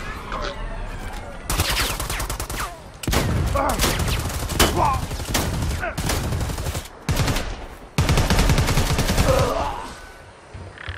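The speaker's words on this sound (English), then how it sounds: "Cover me. Keep shooting." Heavy automatic gunfire in the Predator Hunting Grounds game comes in long, loud, close bursts with short pauses between them, while a voice speaks now and then under the shooting.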